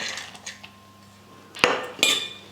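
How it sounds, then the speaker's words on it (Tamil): Cashews roasted in ghee dropped into halwa in a pan, giving a sharp metallic clink of a spoon against the pan and then a second clattering scrape, close and fairly loud, after a quiet start. "நம்ம நெய்யில் வறுத்து வச்சு அந்த முந்திரியும் சேர்த்துக்கிறேன்."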